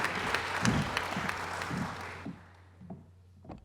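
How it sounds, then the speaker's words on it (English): An audience applauds at a Women's History Month media event, a brief burst of clapping that thins out and fades as it ends. "An applause."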